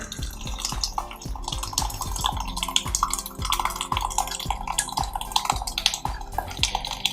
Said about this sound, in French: Là, on voit en fait l'eau qui est en train de s'écouler.